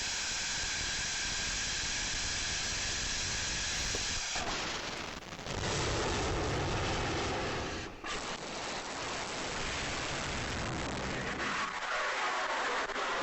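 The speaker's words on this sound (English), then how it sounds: "So that's a rotating detonation engine." A rotating detonation rocket engine fires in a continuous harsh roar with dense hissing and crackling, loud and steady for most of the stretch, with brief dips in intensity and no voices over it.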